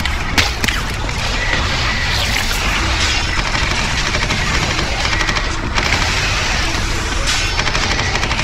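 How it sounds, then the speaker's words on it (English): Gunfire in Warhammer 40K Eternal Crusade, a loud, dense stream of rapid automatic shots rattling continuously under a roaring battle din, with no voices. "I'm shooting at Marin."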